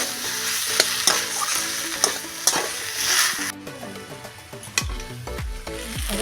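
Cooked spice mixture for cauliflower and potato chop sizzling in a pan and scraped out onto a plate, with repeated sharp scrapes of a spatula against metal over a frying hiss, then a few heavier clunks as it is poured.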